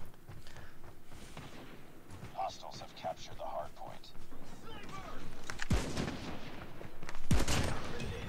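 A sniper rifle shot in the mobile shooter COD Mobile, two loud sharp cracks near the end over a busy backdrop of in-game effects and faint background gunfire.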